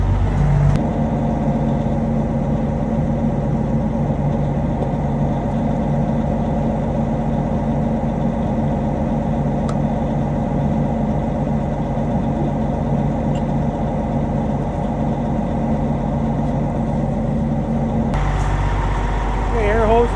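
An old farm truck engine idles steadily and loudly up close, a low rumbling drone with a brief shift in tone near the end.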